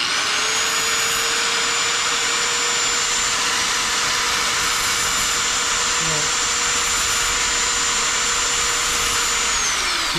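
A small power sanding tool with a tiny piece of sandpaper runs at a steady high-pitched whine for the whole stretch, loud and constant, with a brief faint knock partway through.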